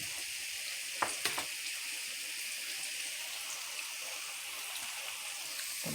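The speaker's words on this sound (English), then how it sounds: "Some pork chops frying nice over there, you guys." Pork chops sizzle in a pan with a constant, soft frying hiss and crackle, punctuated by a couple of brief clinks or spatters near the start.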